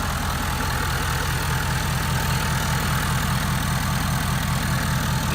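A 2012 Ford F-250 Lariat's 6.7 liter Powerstroke turbo diesel with a DPF delete idles steadily, a low, even rumble with a faint ticking clatter, close by and alone.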